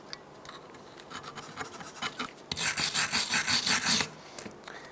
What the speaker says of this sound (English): Use your wire brush.